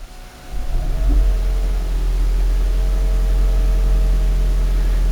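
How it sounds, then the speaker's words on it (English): Engine of a third-generation Toyota Prius with the 2ZR-FXE engine starting up in disconnected EV mode, a soft low rumble swelling after the first second and then settling into an even, steady idle hum. "We'll start the engine now by disconnected EV mode, and we'll see if we have any abnormal noise inside."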